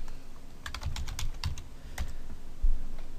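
Keys on a computer keyboard clatter in quick irregular bursts while a server Group Policy setting is entered, the clicks close and clear with short pauses between runs.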